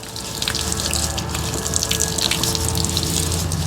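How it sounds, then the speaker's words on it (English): Water runs steadily from an outdoor spigot as hands are scrubbed with soap and the spigot is washed too, a continuous close splashing gush with no talk. "I'm going to go ahead and apply the soap. And in this process, I'm actually going to wash the spigot as well."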